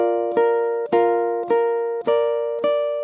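Ukulele plays measure 24 at a comfortable tempo, five evenly spaced strummed chords ringing with bright sustained harmonics, close and clear with no voice.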